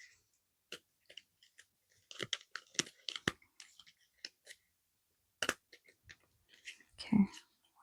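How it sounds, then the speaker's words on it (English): Playing cards shuffled by hand for a tarot-style advice reading, giving a string of soft crisp riffles and taps, fairly close and quiet, with a louder rustle near the end. "Let me just shuffle a little bit more."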